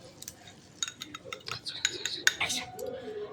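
Melted butter spread around a hot wok for a butter cheese omelette, with soft scraping and light metallic clinks of a utensil against the pan, close and fairly quiet, in quick irregular strokes.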